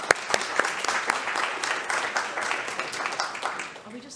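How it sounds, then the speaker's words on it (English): An audience at an evening event applauds steadily for several seconds, a dense patter of many hands clapping that tapers slightly toward the end, with a voice faintly present. "So yeah, round of applause for Chantal."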